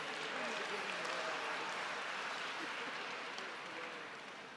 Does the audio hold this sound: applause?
yes